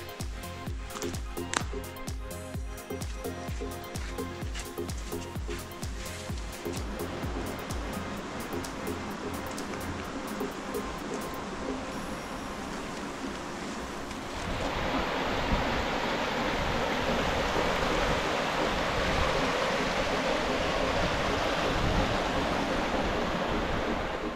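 Steady rushing water of a canyon creek on the Newnes Plateau, Blue Mountains, fills the whole clip, a continuous broadband flow that grows noticeably louder and denser about halfway through.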